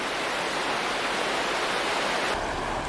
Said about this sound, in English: this is a beautiful little falls. They call it Banyas Falls.